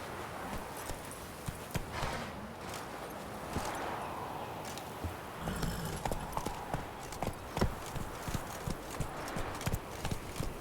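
Roach the horse's hooves clip-clop in The Witcher 3, a quiet, steady stream of hoofbeats over a soft ambient game soundscape, with a few louder, sharper steps toward the end.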